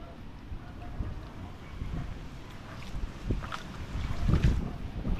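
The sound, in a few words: strong wind at sea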